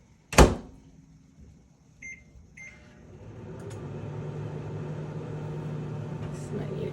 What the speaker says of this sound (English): I hate having to clean the microwave again.